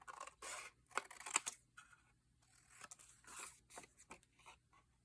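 Scissors cut off the end of a piece of craft material, giving a few quiet, crisp snips and scrapes spread across the moment, close up with no talking.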